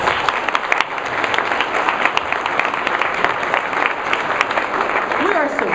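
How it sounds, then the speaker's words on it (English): Audience at a National Honor Society ceremony clapping in a sustained round of applause, a dense crackle of many hands filling the room, fairly close and steady for several seconds, with a voice faintly audible underneath. "Let's give these fine young people another round of applause."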